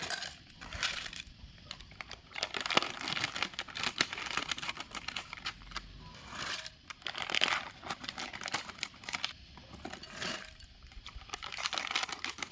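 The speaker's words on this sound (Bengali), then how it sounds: "এবার আমি এই প্যাকেটগুলোকে একটা একটা করে কেটে বোলের মধ্যে ট্রান্সফার করে দিচ্ছি" Snack packets are cut open and tipped into a bowl, giving close crinkling plastic rustles and bursts of dry pieces pattering and rattling, in irregular clusters with no speech.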